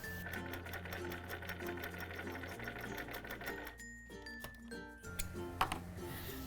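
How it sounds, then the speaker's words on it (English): Over soft background music, a sewing machine stitches along the pressed edge of fabric for a geometric wall hanging, making a quiet, rapid run of ticking stitches. "Now that this piece is pressed, I'm going to stitch along the edge to secure it in place."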